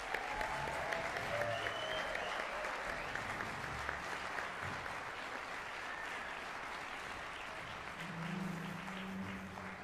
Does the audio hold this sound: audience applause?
yes